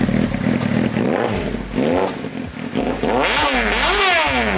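A motorcycle engine with a custom exhaust idles and is revved several times, loud and close, each throttle blip rising and falling in pitch over a rough rumbling exhaust.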